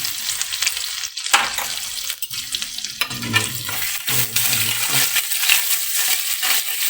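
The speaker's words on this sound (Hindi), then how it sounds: "अब हम लहसुन अदरक का पेस्ट डालेंगे। इसको हम जो है थोड़ा सा रोस्ट कर लेंगे।" Garlic ginger paste sizzles and crackles as it roasts in a hot pan, with scraping and stirring sounds coming through intermittently. The whole clip stays busy at close range.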